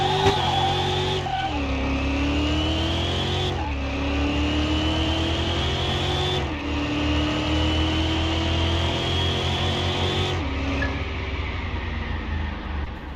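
A race car in Car Mechanic Simulator 2021 accelerating hard down a drag strip, engine revving up through several gear changes with rising whine, loud and continuous, close up, with tire noise under it.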